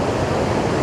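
Sea waves washing on the shore along 17-Mile Drive in California, a dense loud hiss of surf heard close and steady for a brief moment.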